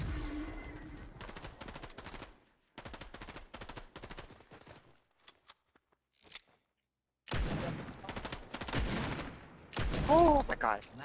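Gunfire in Fortnite on a body-cam style custom map: several sharp bursts of rapid automatic shots separated by short pauses and near-silence, then a louder stretch of firing near the end, with brief voices mixed in.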